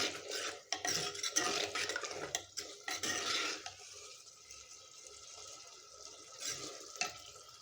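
Beef for aloo gosht is stir-fried in a pot, with a spoon scraping and clattering against the metal over a constant sizzle; the stirring is busy at first, then settles into quieter frying with occasional knocks.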